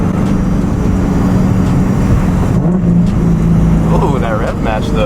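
A 700whp Nissan Nismo car's engine revs up sharply in a blip between gear shifts, loud and close over a continuous drivetrain drone, with people talking over it.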